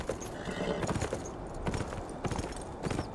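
Hooves clip-clop steadily at a walking pace as a horse moves in the video game Beyond Two Souls, a close, rhythmic series of knocks over a soft background.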